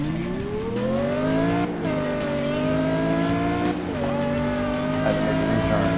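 A car driving in the dark, its engine note rising steadily then dropping and climbing again between gear shifts, loud and close with tire noise and a faint voice underneath.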